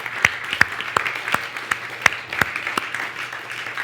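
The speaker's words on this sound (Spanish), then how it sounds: "Denle un aplauso al Señor." A church congregation at a Thanksgiving service gives applause, heard as a sparse run of distinct, sharp claps spaced roughly every third of a second over a soft background murmur.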